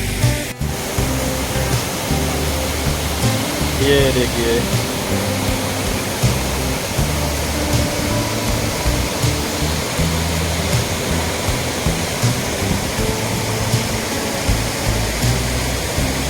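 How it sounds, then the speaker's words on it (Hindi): Pawa Waterfall in Shivpuri, a small waterfall in a green forest, roars with a steady, broadband rushing of falling water that stays constant and close. Someone speaks briefly at the start. "पानी की आवाज़ चारों तरफ से आ रही है।"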